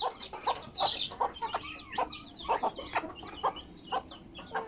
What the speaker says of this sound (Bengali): দেখেন আমার কলম্বিয়ান লাইট ব্রাহ্মার বাচ্চাগুলো বিটল খাওয়া নিয়ে কতটা ব্যস্ত